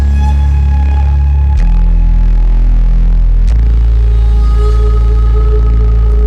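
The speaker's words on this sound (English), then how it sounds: "that's all the synths, and that in conjunction with the bass as well will sound like this" Layered synths with bass from an Ableton Live 11 song: loud, dense sustained chords over a heavy low bass that changes note twice, steady and continuous with no voices.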